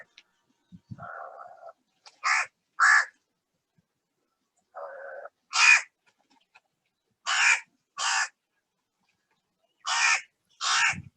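A crow caws close by in short, loud, harsh bursts, mostly in pairs, with softer lower croaking calls in between and silent gaps between the groups.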